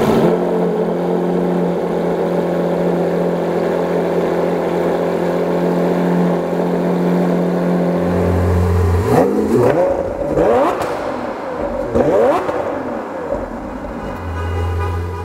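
A Lamborghini Aventador SVJ exhaust drones steadily at idle, then barks through several sharp, loud revs with rising and falling sweeps before returning to a steady idle, all close and without speech.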